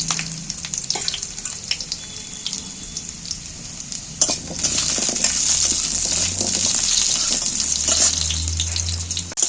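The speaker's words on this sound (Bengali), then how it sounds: "আমড়াগুলো আমার ভাজা হয়ে গেছে" Cut hog plums (amra) frying in very hot oil, a continuous close sizzle that swells louder partway through, with occasional clinks and stirring noises and no speech.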